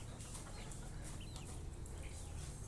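A Bulik rooster clucks softly in short, faint calls over a low, steady outdoor rumble, with no talk.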